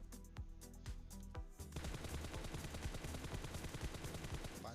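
Gunfire on the Livik map in PUBG. A few spaced shots give way to a sustained stream of rapid automatic fire, fairly quiet overall and with no voices over it.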